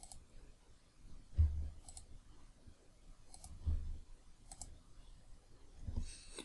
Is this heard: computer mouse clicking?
yes